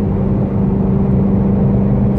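A 2018 Ford Shelby GT350 engine drones in a steady, loud, low rumble with a constant whir and no break in the sound.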